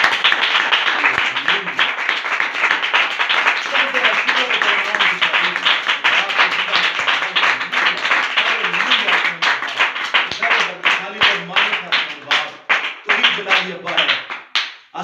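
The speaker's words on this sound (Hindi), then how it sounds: "इस उस्ताद का हमारी हड्डियों में होने के लिए एक बार जोरदार ताली।" A church congregation claps loudly in sustained, dense applause that fills the space, then thins into scattered individual claps at the end.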